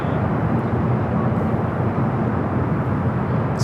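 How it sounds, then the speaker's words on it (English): A Lufthansa Airbus A350 airliner at Los Angeles airport gives off a continuous low jet rumble and broad engine noise, steady and fairly loud for the whole short stretch. "up next, Lufthansa A350"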